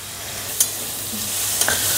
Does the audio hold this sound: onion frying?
yes